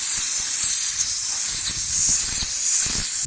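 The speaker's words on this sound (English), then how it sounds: "now let's pump the compressor a bit" An air compressor on a dirt bike workshop job gives off a continuous bright airy hiss, loud and close, with faint low irregular knocks of pumping beneath it.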